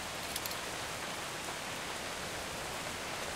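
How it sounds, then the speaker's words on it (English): Steady rain falls in the survival video game Atlas, a constant even hiss with no distinct drops or thunder, faint and unbroken throughout. "Wait, it's raining, thunder, and a heat wave?"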